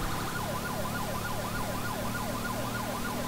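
Wailing police backup siren in GTA 5, a repeated rising-and-falling sweep cycling about every half second, fairly distant under a constant bed of road and engine noise, with no talking.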